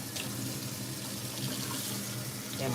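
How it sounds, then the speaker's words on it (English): Juice from a can of carrots drains into a sink in a steady, unbroken splashing trickle at moderate volume, with no voices. "And I'm draining that carrot juice off."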